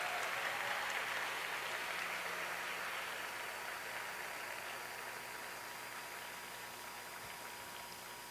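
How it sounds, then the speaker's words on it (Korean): A church congregation applauding a college choir after a worship song, dense even clapping from a large crowd that holds steady and slowly fades, heard from a distance in a big room. "우리 칼빈 칼리지 우리 화이어에게 다시 한번 박수로 격려해 드리겠습니다"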